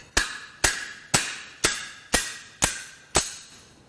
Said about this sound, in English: you thread this onto the slide hammer, and you just give it a few little